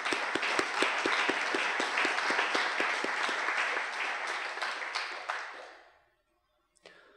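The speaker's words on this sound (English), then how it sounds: "I think we should all give him a round of applause" An audience at an evening lecture claps steadily for about five seconds, the dense applause thinning and fading to silence, followed by a single faint click near the end.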